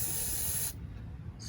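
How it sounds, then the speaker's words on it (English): A short, close burst of aerosol spray hisses onto the valves of a Ford 2600 tractor engine, then cuts off abruptly, leaving quiet with a faint tail. "spray that down."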